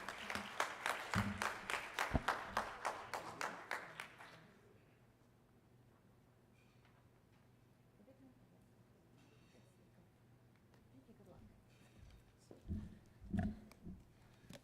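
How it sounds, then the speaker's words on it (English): A conference audience at a Health 2.0 gathering in Dubai bursts into dense, lively clapping for about four seconds, then it dies away into a quiet hall with only faint scattered room noise. "Can we please have a round of applause?"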